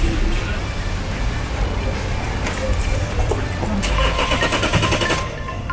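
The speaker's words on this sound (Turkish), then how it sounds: "Şimdi araba çalışacak." A car engine cranks and starts during a Silk Road rally from the Danube to the Orkhon, a steady loud mechanical roar filling the scene, with people talking nearby.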